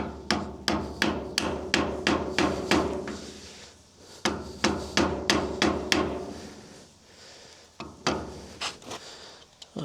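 Someone hammers the wheel bearing nut off an Ifor Williams trailer in bursts of sharp metallic blows, about a dozen rapid strikes, a pause, another quick series, then scattered single hits.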